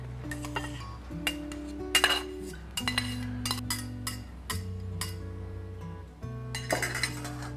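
Utensils clink against a ceramic bowl while buckwheat soba noodles and vegetables are arranged inside it for a noodle soup, with scattered taps and scrapes spread over several seconds under steady low background hum.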